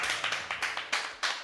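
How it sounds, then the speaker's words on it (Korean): A small group claps by hand in a short run of about seven sharp claps, close and fairly brisk, at a cooking-contest livestream. "엄청나게 멋진 두 팀의 음식에 대한 노고에 일단 박수를 먼저 보내드립니다."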